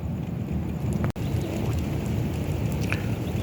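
Light rain falls in the desert as a tropical storm arrives. A dense, continuous hiss of drops patters steadily close by, with low rumbling underneath and no voices.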